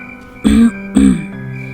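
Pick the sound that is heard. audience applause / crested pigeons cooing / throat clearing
throat clearing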